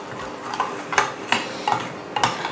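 A spoon stirs agar powder into a warm pea mixture in a pot, making soft scraping strokes at a steady, unhurried rhythm, about one sweep every half second, close and fairly quiet.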